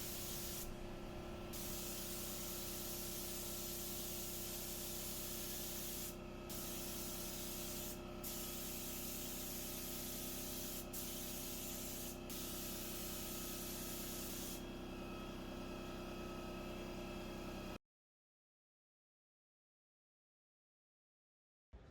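A spray gun coats a furniture piece with paint, giving a steady, close hiss that holds for about eighteen seconds with a few brief breaks before it cuts to silence.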